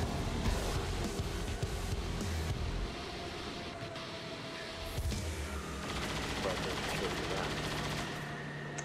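Rapid bursts of gunfire in XCOM 2: War of the Chosen crackle in uneven volleys, with a low rumbling layer underneath and brief pauses between shots.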